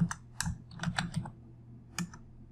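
Keystrokes on a computer keyboard while entering a project name into an online application form, clustered in short bursts of a few taps each, close and clear with no talking.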